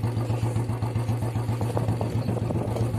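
A Royal Enfield Bullet motorcycle engine thumps steadily at a low, even idle-like beat, close and loud, with a continuous pulsing rhythm throughout.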